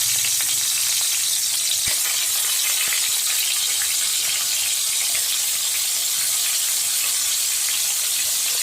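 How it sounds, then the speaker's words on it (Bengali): Crabs frying in oil, a steady loud sizzle holding evenly throughout with a faint tap or two and no talk. "এবারে সেই তেলের মধ্যে এই ক্যাঁকড়াগুলোকে ভেজে নিচ্ছি।"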